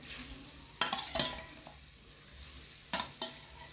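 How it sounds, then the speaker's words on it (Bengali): Fish pieces slipped one at a time into a simmering tomato and onion gravy for Bengali fish do peyaji, giving a few soft splashes and bursts of sizzle over a quiet bubbling background. "এই যে সুন্দর করে মাছ একটা একটা করে ছেড়ে দিতে হবে"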